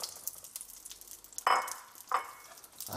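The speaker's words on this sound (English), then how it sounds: "it'll immediately start to sizzle like that" Hot oil sizzles softly with a couple of louder hissing bursts as padron peppers hit the pan, a crackling frying sound with no talking.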